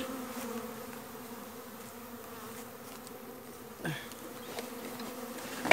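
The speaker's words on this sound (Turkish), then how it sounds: "doğal olarak havaya kalktılar buranın tarlacısı diyebileceğimiz arıları" Honeybees buzz steadily in a low drone, several insects humming close by, with a brief louder pass near the end.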